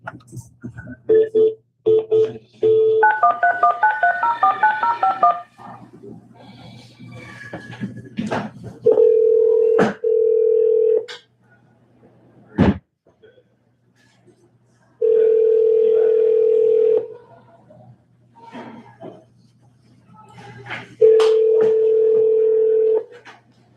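An intercom phone during a county board of supervisors meeting plays a short dial tone, then a quick run of keypad dialing beeps, followed by long steady ringback tones separated by gaps, with people talking in the room between them.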